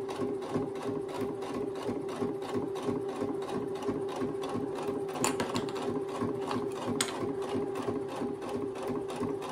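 A sewing machine runs steadily, its needle clattering in a fast, even rhythm, close and fairly loud, with a couple of sharp clicks midway.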